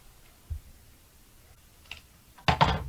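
Scissors snip diagonally through a paper corner while trimming bulk from a handmade mini album, a faint soft cut early on and a louder, crisper crunch of blades near the end in a quiet room.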